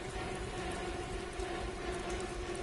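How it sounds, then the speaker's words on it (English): Rain falls indoors in the video game The Park, a steady dense patter alongside a low rumble, constant and moderately loud throughout. "Why is it raining inside?"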